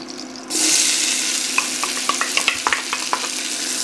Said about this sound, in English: I'm gonna let the onions cook for a second or two before I add my garlic